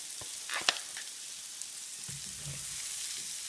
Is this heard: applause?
no